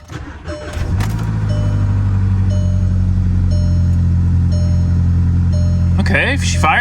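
A car with a DSG transmission cranks briefly and then catches into a steady, loud idle close by, with a few clicks and faint rustling over the even engine hum.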